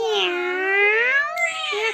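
A voice imitates a cat's meow in one drawn-out, rising and falling call, close and loud.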